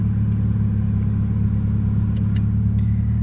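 A 1986 Toyota Camry engine idling, a steady, fairly loud low rumble heard from close by, with a couple of faint clicks near the end and no speech.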